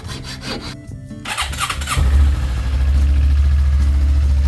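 A 2019 Suzuki GSX250R sport bike is cranked and fires up, settling quickly into a loud, steady low idle close by after a few seconds of starter whir and clatter.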